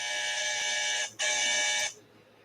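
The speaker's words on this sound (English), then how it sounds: "those buzzers are for the 3 Ks" Electronic buzzer sound effect marking strikeouts on a baseball wrap-up show, two loud steady harsh tones in quick succession with a brief gap between them, played alone.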